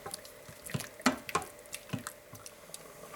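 Taco soup starting to boil in an Instant Pot, faint irregular bubbling pops and small wet plops at close range, soft and sparse with no talk.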